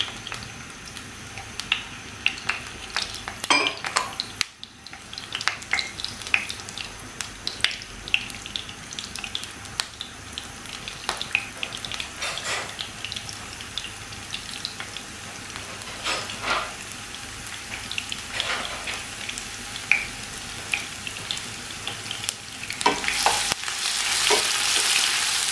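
Chopped onion fries in oil in a pan while an aloo tangra fish curry is cooked. There is a steady sizzle with scraping stir strokes and a few splashy bursts, and no one speaks.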